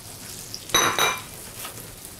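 Mushrooms in a little butter in a pan give a quiet sizzle, broken by two short scraping, clinking bursts as they are stirred.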